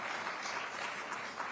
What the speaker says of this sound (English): they deserve a round of applause again for that